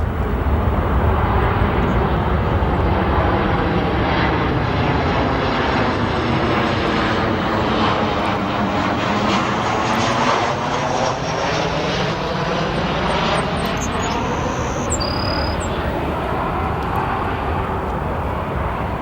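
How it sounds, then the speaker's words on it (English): A Southwest Boeing 737 arriving from Denver lands at Chicago O'Hare, its engine roar loud and steady as the pitch sweeps downward during the pass, with faint talk underneath. "This is our 737 from Denver."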